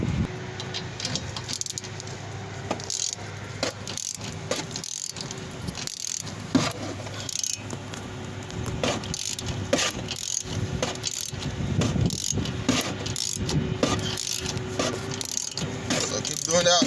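A ratchet wrench clicks steadily while tightening a sway bar link on a Toyota Camry, a continuous rapid pawl chatter at moderate level with faint metallic rattles throughout.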